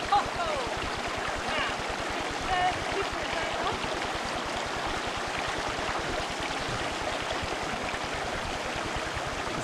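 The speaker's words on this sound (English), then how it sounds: "The water's lovely and cool. This is a Jim Creek." Water in Jim Creek in the Australian Outback flows steadily with a continuous broad rushing wash, close and moderately loud, with a voice talking briefly over it.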